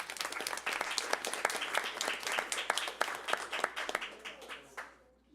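Audience applause fills a city council meeting, a steady wash of clapping from many hands in a room that swells briefly and then tapers off near the end.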